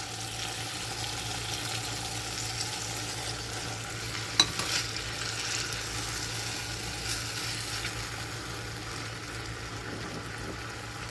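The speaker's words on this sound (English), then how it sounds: "we're going to add our beans. And we are using butter beans." Butter beans sizzle softly in a pan for harissa butter beans, a steady low frying hiss with faint stirring and one small clink, no talking.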